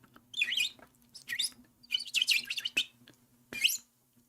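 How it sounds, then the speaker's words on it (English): A small bird chirps in several quick bursts of high twittering, close and clear over a faint low hum, with short pauses between calls. "Bird."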